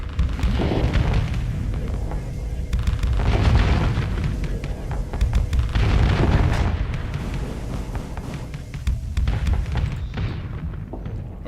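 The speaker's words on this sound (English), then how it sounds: "Oh no, a bunch of missiles." Missile explosions from a volley in the space combat game Starsector: loud, overlapping booms and rumbling blasts rolling on for several seconds, swelling and fading in waves before thinning out at the end.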